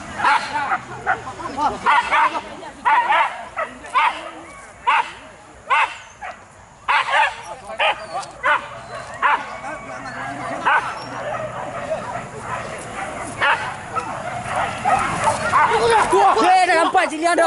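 A dog barks and yips in rapid, repeated bursts throughout, loud and close, with some whimpering mixed in and voices talking over it.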